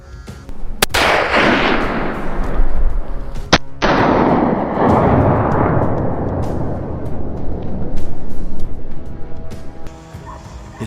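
Rifle shots while hunting wild boar on a hillside, two sharp loud cracks early on followed by rumbling echoes and rustling, with a dog barking faintly afterward.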